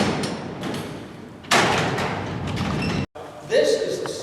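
Steel cell doors at Alcatraz are closed by a lever mechanism, making heavy metallic rumbling and a loud clanging thud as they slide shut, with a brief silence and another clank after; someone talks over it.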